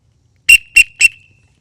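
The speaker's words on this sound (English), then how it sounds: "next up is going to be an emergency whistle, and I believe it's 3 times" Emergency whistle from a woodland survival kit blown three times, three sharp, loud, high-pitched blasts in quick succession, each short with a brief ringing tail, alone and close up.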